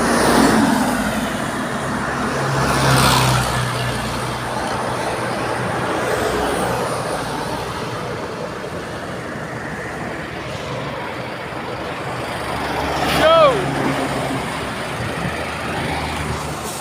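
Heavy trucks roll past on the NLEX highway in the Philippines, a continuous loud roar of engines and tyre noise with swells as vehicles pass close, heard from a moving vehicle.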